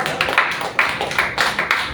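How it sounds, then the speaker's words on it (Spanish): A church congregation claps for a short moment, a handful of sharp, uneven handclaps close together, loud and near. "Den un buen aplauso a Cristo Jesús."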